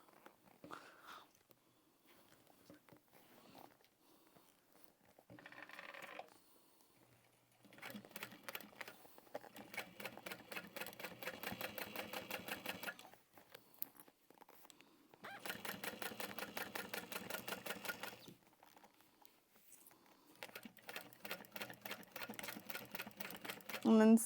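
A domestic sewing machine stitches a seam on a fabric tote bag in several bursts of rapid mechanical clatter, separated by pauses with quieter handling noises.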